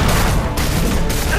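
Dense, loud bursts of gunfire in Resident Evil 2 Remake blend into a continuous roar, several heavy Lightning Hawk magnum revolver shots landing close together.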